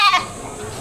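Goat bleating once in a short, loud, wavering cry at a livestock sale, fading into faint background noise.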